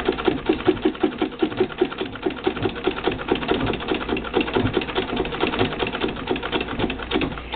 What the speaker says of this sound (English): Now you may hear a little slippage in the belt. That's because this treadle usually has a 1588 in it.